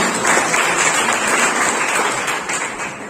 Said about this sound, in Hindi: आप लोगों की तरफ से तो खूब तालियां होनी चाहिए।